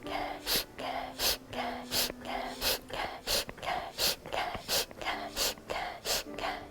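Rhythmic breathing exercise done with knee bends: about a dozen sharp, close breaths in a steady rhythm, each a short airy burst, repeated evenly with no talk.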